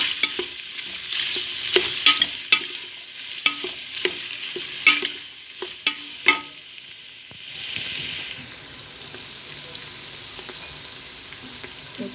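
Peppers and tomato and pepper paste sautéing in a pan while being stirred, with steady sizzling and repeated sharp scrapes and taps of a utensil for the first seven seconds, then a softer continuous sizzle.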